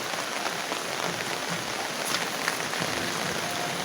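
Steady rain patters on a surface, a dense even hiss of drops with no voices, continuous and fairly close.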